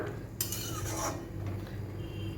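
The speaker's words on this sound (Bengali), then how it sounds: "এই শোলা কচুটা এর মধ্যে দিয়ে দেবো, দিয়ে এটাকে আমি একটু সেদ্ধ করে নেব।" Pieces of sola taro are tipped into a cooking pot to boil, making one brief clattering tumble against the metal before a quiet background.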